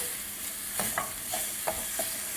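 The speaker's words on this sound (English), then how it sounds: "We're going to give it another stir" Corn chowder being stirred in a pot: a few soft scraping spoon strokes in an irregular rhythm over a faint steady background, close and quiet, with no voices.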